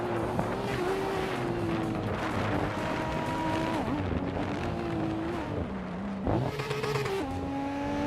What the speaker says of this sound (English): Epic Sugar is driving a 1993 Toyota Carina EGTI.